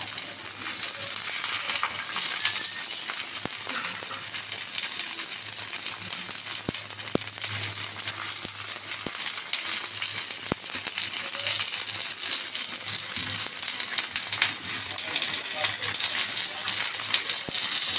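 Shutki (dried fish) fritters wrapped in taro leaves frying in oil, a continuous close crackling sizzle with scattered sharp pops, steady throughout and no talking.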